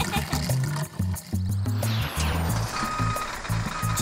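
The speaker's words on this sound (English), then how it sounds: "That's my truck beeping to warn people to stay out of the way whenever it goes backwards." A toy truck sounds a regular electronic reversing beep, a repeated chain of short tones that holds fairly steady over a busy, cluttered background, with talk running underneath.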